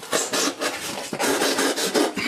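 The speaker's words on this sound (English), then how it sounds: "So I like to poke 2 holes on each side of the box." Phillips screwdriver punching holes through the side of a cardboard shipping box, giving a run of close, rough scraping and crunching bursts with a sharp pop near the middle.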